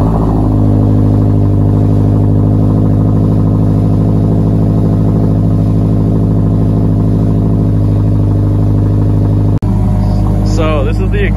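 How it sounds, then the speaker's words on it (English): A 2022 Subaru WRX with a muffler delete and chrome tips idles with a loud, steady low rumble for about ten seconds, then a sharp click cuts in and the engine note turns rougher and uneven right at the end. "So this is the exhaust and startup."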